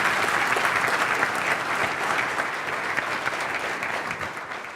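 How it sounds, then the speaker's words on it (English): Sustained audience applause for a guest speaker at a corporate event, a dense, steady wash of many hands clapping that holds loud throughout and eases slightly toward the end. "Let's give a big round of applause for Keith Ferrazzi."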